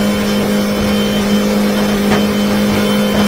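Yamaha F90 outboard motor on a 2023 Hewescraft 180 Sportsman boat running flat out at 6,000 RPM, a loud, steady high-revving engine drone with wind and water rush, no talking.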